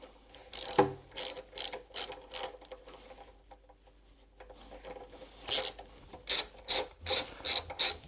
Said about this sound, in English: we'll start removing this side brake caliper. These are just some nice long bolts.